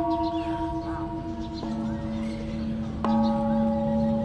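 A temple bell rings at the old city of Si Satchanalai in Thailand, with two clear strikes whose bright, humming tones linger and overlap against a faint outdoor background.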